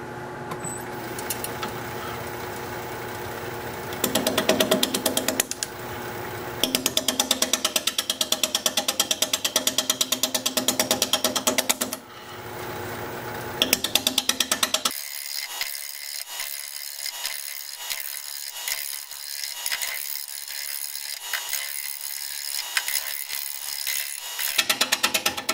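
Wood lathe spinning a red cedar log at about 530 RPM while a 5/8 inch bowl gouge cuts it, a steady loud rough cutting roar with bursts of heavier scraping, dropping to a thinner, lighter hiss partway through.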